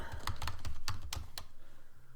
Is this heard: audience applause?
no